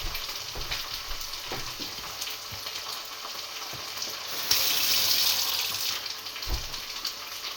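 Kitchen tap running water while cooking bolognese, a soft hiss of flowing water with a louder burst midway, plus scattered clinks and knocks of kitchen handling.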